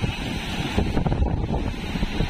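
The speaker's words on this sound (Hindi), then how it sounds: "आप देखिए ये देखिए लहरें" Churning, rushing water waves below the opened gates of Madikheda dam, a loud continuous broadband roar mixed with wind buffeting the microphone, no voices heard.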